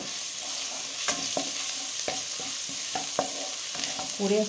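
Chopped onion and garlic frying in hot oil, a steady close sizzle broken by regular scraping stirs of a spatula in the pan.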